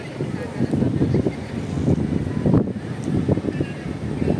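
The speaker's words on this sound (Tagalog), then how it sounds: "Mahangin dito. Grabe yung hangin." Strong wind gusting outdoors at Exchange Square in Hong Kong, a steady loud rumble with buffeting against the microphone throughout, while a person talks close by.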